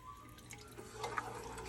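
Water trickles and drips into a pan of coconut curry sauce for mussels, a brief, soft, close pouring sound without talk.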